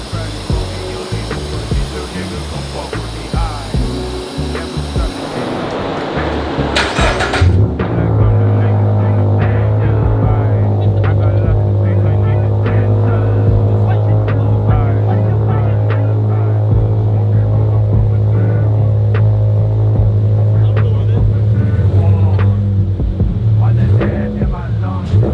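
A Toyota GR86 fitted with a Hellfire exhaust starts with a sharp, loud burst, then settles into a steady, deep idle drone that holds close and constant until the end.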